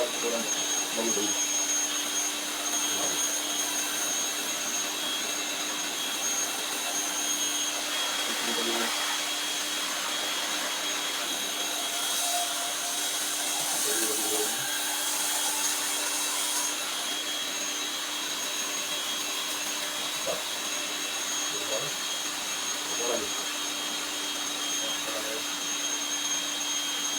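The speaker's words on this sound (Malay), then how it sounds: "tembak air pakai water jet" A water-jet pressure washer sprays steadily onto an air conditioner unit during servicing, a loud continuous hiss and roar lasting throughout with only brief bumps and variations.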